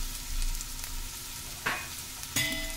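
Red and yellow bell peppers sauté in a pan over masala for a vegetable masala Maggi, with a steady low sizzle and two sharp stirring scrapes near the end; no voices.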